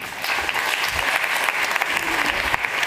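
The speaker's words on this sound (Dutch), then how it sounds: "Geef een hartelijk applaus." Audience applause at a Dutch literary event, sustained dense clapping filling the room at steady loudness, with no talk over it.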